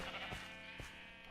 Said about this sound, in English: My sheep farm, which I'm gonna kill